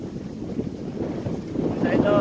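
Strong wind buffets the microphone beside a river, producing continuous low rumbling gusts that swell toward the end, with a faint voice briefly audible.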